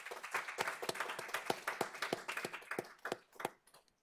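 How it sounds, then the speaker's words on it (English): A small board meeting audience claps for a presenter, distinct individual hand claps in a fairly quick rhythm at moderate distance that taper off into a few scattered final claps. "If we could give Howard a round of applause"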